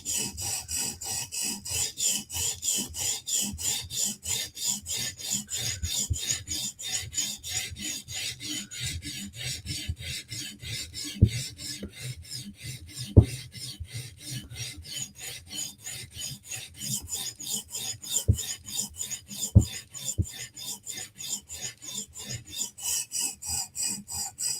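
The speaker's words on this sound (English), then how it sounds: "So we're going to keep on sharpening until one more time." A blade being sharpened by hand with steady, repeated rasping strokes, close and even, with a few sharper clicks along the way and no talk.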